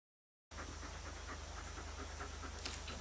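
A dog pants steadily and close in a K-pop music video, a quick rhythmic breathing held over a low pulsing beat and a constant hiss, after a brief silent start.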